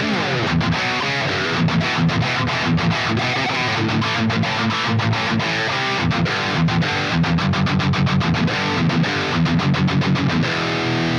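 Heavily distorted electric guitar with reverb, tuned for a classic metal tone, playing a chugging rhythm with sharp palm-muted stops, loud and gritty, repeated chords filling the whole stretch.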